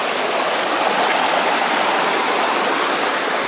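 A creek below a historic mine in the Sierra Nevada runs over reddish rocks, a steady, loud, close rush of churning water with no pauses.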